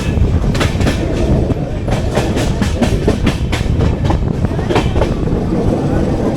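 The Coimbatore-Hisar AC Express rattles over a set of points with loud, rapid clickety-clack wheel beats on a heavy running roar, heard close from on board.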